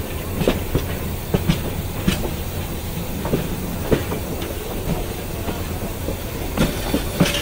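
The Tista Express rolls into Dhaka's Kamalapur railway station at night in the rain, its wheels beating a loud, uneven clickety-clack of rail joints over a constant low rumble and faint hiss.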